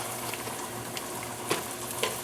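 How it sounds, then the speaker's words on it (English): Onions sauté in a little oil in a stew pot for homemade beef stew, a steady close crackling sizzle with occasional sharper pops and stirring scrapes, continuous and moderately quiet with no voices. "We're going to go ahead and throw in some onions. Kind of saute them up."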